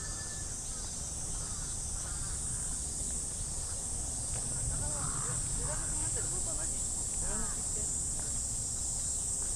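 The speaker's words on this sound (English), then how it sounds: "they say it about the sound of the cicadas in Japan" Summer cicadas in Japan drone as a constant high, shrill buzz throughout, with faint bird calls and murmuring voices underneath.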